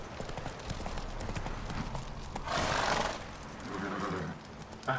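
Roach, a horse in the Witcher 3 video game, gallops with quick rhythmic hoof clip-clops, joined by bursts of whinnying and breathy snorts, fairly loud and close.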